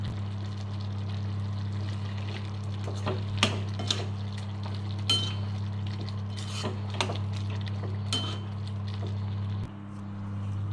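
A spiced prawn curry is stirred in a pan on a steady flame, giving intermittent scrapes and clinks of a utensil against metal over a constant low hum, with no talking.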